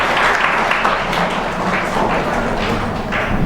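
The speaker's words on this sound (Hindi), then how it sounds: "जोरदार ताली बजा के नीरज जी का स्वागत करें।" Audience applause welcoming Neeraj Thakur, a retired DGM, onto the stage at a talk; dense, steady clapping from a crowd holds for several seconds with no voices over it.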